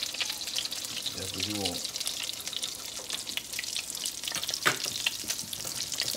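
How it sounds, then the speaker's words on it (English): Venison burgers fry in a pan with a continuous sizzle, joined by bursts of running water and brief utensil clatter, while someone speaks briefly over it. "So now we're just going to finish cooking the remaining of our venison burgers."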